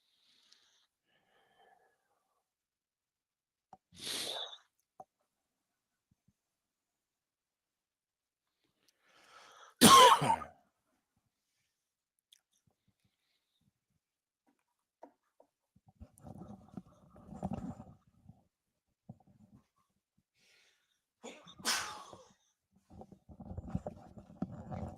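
A single sharp sneeze bursts out of near silence, surrounded by a few scattered quiet rustles, soft breaths and faint murmurs.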